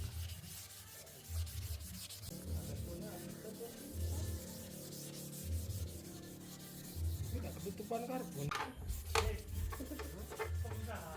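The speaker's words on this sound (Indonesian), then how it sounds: "kita amplas-amplas terlebih dahulu secara merata dengan grit" Close, raspy back-and-forth scrubbing of 800 grit sandpaper over a scratched ABS plastic motorcycle body panel on a Vario, rhythmic strokes with soft low thumps, briefly pausing before resuming.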